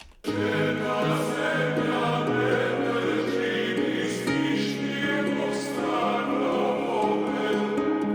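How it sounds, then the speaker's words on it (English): A bright, layered passage of piano and plucked ukulele over sustained choir voices, steady and full throughout with no talking. "So piano, ukulele, choir."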